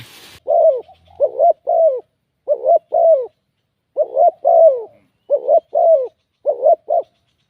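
A spotted dove used as a decoy bird coos in repeated short bursts, clear and close against near silence, about a dozen rhythmic coo phrases grouped in pairs and triplets.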